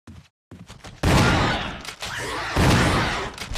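Gunfire in a Resident Evil game: sharp, loud blasts with a brief quiet gap, then a heavy burst around a second in and another strong shot later, each trailing into rumbling echoes.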